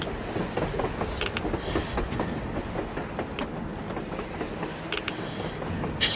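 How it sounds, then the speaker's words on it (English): A train in the game Metro Exodus rumbles past with a steady low roar and faint rhythmic clacking, a few sharp metallic transients scattered throughout, ending in a louder burst. "A train! A damn train on the surface!"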